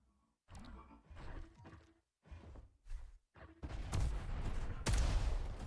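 Weapon fire in the Diabotical arena shooter, with heavy blasts and booming impacts coming in separate bursts and then merging into a dense, roaring barrage of explosions.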